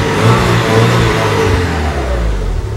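A running car engine is revved, its loud mid-range drone rising and falling over a few seconds up close with no talking.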